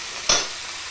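Vegetable stalks cook in a pan with potatoes, a short burst of sizzle and stirring rising briefly over a steady low hiss of frying.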